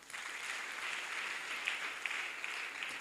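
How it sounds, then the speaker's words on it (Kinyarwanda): A church congregation applauds during a Kinyarwanda sermon, with steady, dense clapping from many hands that carries on evenly throughout. "Komera Imana amashyi."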